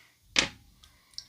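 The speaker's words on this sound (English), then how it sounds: "going to go ahead and have this cork pop in 3, 2, 1" A cork pops out of a bottle of Lunazul Reposado tequila with one sharp, close pop, followed by faint small clicks and a light tap.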